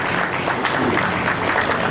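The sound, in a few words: audience applause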